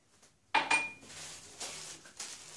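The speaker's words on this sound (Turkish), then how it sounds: "Bir su bardağı toz şekerini üzerine gezdiriyorum şöyle. Ve karıştırıyorum" A utensil scraping and clinking against a bowl while sugar is stirred into a cherry tart filling, with a sharp clink at first and then softer scrapes.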